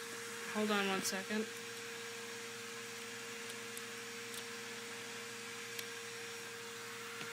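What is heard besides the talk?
vacuum cleaner running in the background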